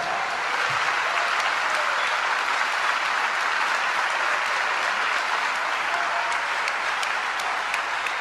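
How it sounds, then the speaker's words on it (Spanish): A large audience at an awards ceremony honouring a singer breaks into loud, sustained applause, a dense even wash of clapping that fills the whole stretch without a break, with no clear voices above it. "¡Fuertes aplausos!"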